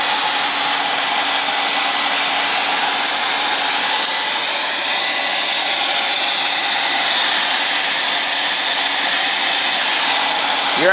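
An air blower sets spray-bottle paint, a loud, steady, close whoosh with a rushing hiss that runs unbroken for the whole stretch.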